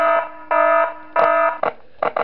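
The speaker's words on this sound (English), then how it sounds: "Sound the alarm." An alarm blares in the video game Five Nights at Smash Bros 3, loud, harmonic tones in two long sustained blasts followed by several short rapid bursts, with no talking.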